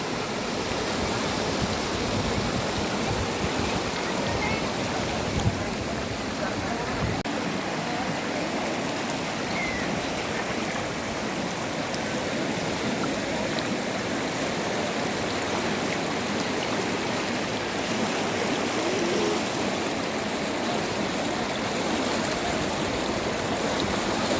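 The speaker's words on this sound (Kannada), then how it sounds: "ಇವತ್ತಿನ ಮಟ್ಟಿಗೆ ತುಂಗಭದ್ರ ಈ ರೀತಿ ಹರಿತಾ ಇದ್ದಾಳೆ" The Tungabhadra river at Mantralaya runs low, giving a steady, even rush of flowing water that continues unbroken throughout without any talk.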